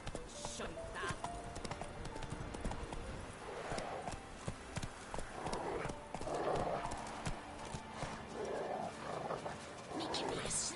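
Roach, the horse in The Witcher 3, gallops with rapid, continuous hoofbeats and gives breathy snorts and neighs, with a voice speaking over the action.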